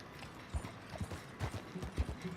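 Horse hooves clip-clop in Red Dead Redemption 2 with a steady, fairly close walking rhythm, soft thuds repeating over a low ambient background.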